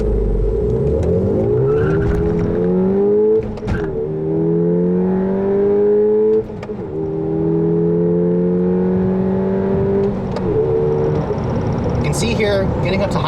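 A 2010 Volkswagen GTI with a six-speed manual accelerates toward highway speed, its engine rising in pitch through several gear changes with brief dips between, loud and close from inside the cabin, no one talking.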